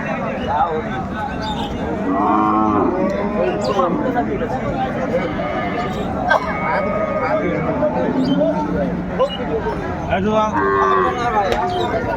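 Several cows and calves moo repeatedly, loud and close, at a livestock market, over a busy background of people talking and general crowd noise.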